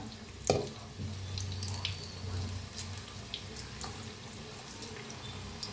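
Chana vada batter fries in hot oil, a faint, steady bubbling hiss that continues evenly throughout, preceded by a brief soft splash as the batter drops in.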